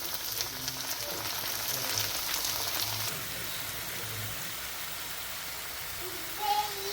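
Brinjal (eggplant) frying in a pan for vangibath gives a steady, soft hiss and sizzle throughout, quiet and even, with a brief clink near the end.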